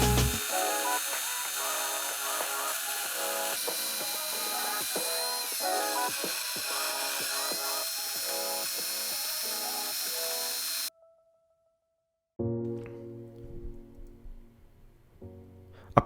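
A power drill bores pilot holes in wood for brass hinges while a door is fitted to a DIY jungle terrarium. The whir is steady, with repeated short bites, then cuts out briefly and resumes for a shorter burst.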